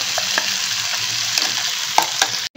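Pointed gourd paste, mixed with a paste of chili and coconut, fries in hot oil while being stirred, a loud, close, steady sizzle broken by scraping and clacking stirring knocks.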